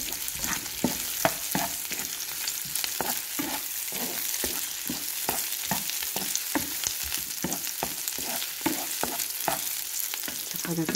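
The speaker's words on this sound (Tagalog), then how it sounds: "Nag-start na po tayo ng pagluto ng ating ampalaya with" Bitter melon and mushroom fry in a pan with a constant hot sizzle, broken by regular spatula clacks and scrapes as the pieces are stirred, with no voices.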